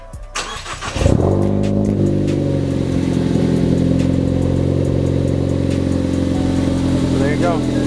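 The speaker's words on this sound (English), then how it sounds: "I'm gonna start the car just to show you guys that it actually did work." A Ford Focus ST is started after an aftermarket steering wheel install: a short starter crank, then the engine catches and settles into a steady, loud idle close by, with a brief chirp near the end.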